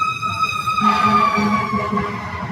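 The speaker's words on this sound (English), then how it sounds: "as there's an ambulance" An ambulance siren wails loudly and steadily nearby, its tone swelling as the vehicle passes, with no talk over it.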